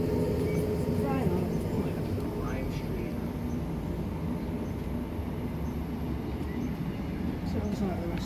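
Class 319 electric multiple unit 319368 pulling out of a station on a line bound for Liverpool South Parkway, a steady broadband rumble of motors and wheels held at constant loudness throughout.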